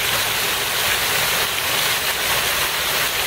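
Water from a fountain runs in Piazza Giovanni Verga, a town square: a loud, steady, unbroken splashing rush with no pauses and no voices.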